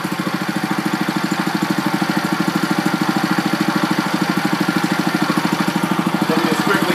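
A Billy Goat AE401 lawn aerator's small engine idles low and steady at close range, a loud, even, rapid chugging that holds throughout.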